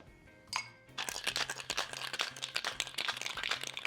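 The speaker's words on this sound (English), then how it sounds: "So now I'm gonna get some ice in here and shake this up." Ice cubes rattle and clink hard inside a cocktail shaker while a spiced Thai tea cocktail is mixed, a brief clink first, then a rapid, loud, close rhythmic shaking.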